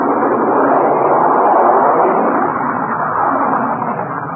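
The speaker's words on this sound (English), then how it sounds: "That was the roar of the B-52, backbone of the Strategic Air Command." B-52 bomber jet roaring continuously, a dense broadband rumble with no gaps, loud and steady for over four seconds, slightly thin and band-limited like an old broadcast recording, with no voices over it.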